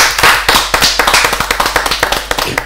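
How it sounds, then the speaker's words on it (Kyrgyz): An audience claps in a brisk, steady burst at a Kyrgyz television game show, each sharp clap closely following the last, with no voices heard. "Кол чаап коелу"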